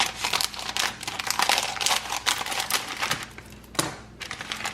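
Crinkly plastic packaging of cookie dough is torn and pulled open by hand in a series of sharp, close rustles and crackles, busy and uneven, with a brief pause near the end.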